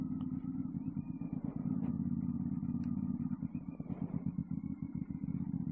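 A 450 SS motorcycle rolling into a gas station, its engine a low steady rumble with a pulsing idle throb, heard close over continuous wind and road noise.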